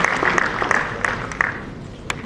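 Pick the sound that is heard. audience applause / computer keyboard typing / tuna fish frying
audience applause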